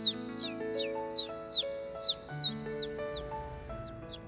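Cartoon bird calls from a children's colour-learning animation: a rapid series of short, bright chirps repeats about a dozen times over a soft musical backing.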